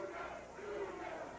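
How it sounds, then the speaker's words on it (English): A pro wrestling arena crowd chants together for a wrestler, a continuous roaring wash of many voices filling the hall with no single voice standing out. "Look at the crowd chanting, Dugan, Dugan, Dugan."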